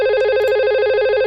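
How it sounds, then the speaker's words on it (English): An IP phone rings during a network call test, a steady electronic ringtone with pulsing tonal warble that fills the short stretch loudly and alone, with no voices. "It's ringing out."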